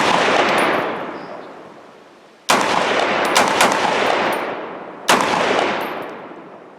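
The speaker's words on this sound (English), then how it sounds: "when you're shooting those full power rifle cartridges" An AR-10 rifle firing old 7.62x51 military surplus ammunition, three loud close shots spaced a couple of seconds apart, each sharp crack followed by a long ringing echo that slowly fades.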